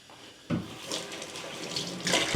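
Water pours and splashes into a sink as cold water is drained from rinsed rice, starting suddenly and running unevenly, with a louder gush near the end.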